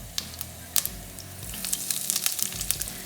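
Mustard seeds, cumin seeds and hing sizzling and popping in hot mustard oil for a Nepali Thakali dish, with a steady frying hiss and sharp crackles and spits close by.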